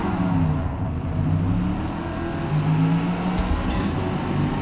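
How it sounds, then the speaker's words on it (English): A Mustang GT race car engine at Road Atlanta in a racing game revs high and holds steady, a loud continuous mechanical roar with rising and falling tonal bands. "we're going to get the revs up nice and high"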